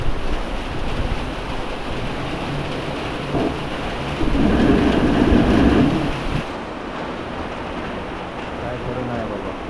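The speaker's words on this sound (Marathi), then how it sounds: "जोरा पाऊस पडतो" Heavy rain pours steadily in a village, with deep thunder swelling loudly midway and then easing back into the dense, continuous hiss of the downpour.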